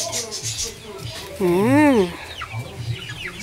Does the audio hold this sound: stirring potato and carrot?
no